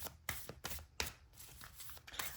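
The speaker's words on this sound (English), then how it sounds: "As I'm shuffling, a bunch of cards will fall out." Tarot cards being shuffled by hand, a quiet run of crisp riffling bursts and soft slaps with short pauses between them, close and with no talking.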